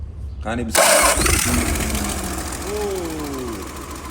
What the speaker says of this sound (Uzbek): DB58 dizel dvigatel.